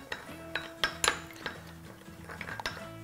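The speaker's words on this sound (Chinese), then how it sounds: "搅拌均匀" Utensil clinking against a bowl while starch-water sauce is stirred, a series of sharp irregular metallic clinks and scrapes over a faint background, close and fairly quiet.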